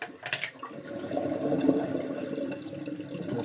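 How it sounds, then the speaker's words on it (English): Water draining from a freshly unclogged bathroom or kitchen sink, a steady gurgling rush and trickle close by that swells slightly and continues without pause, with no voices. "It's making a draining noise now."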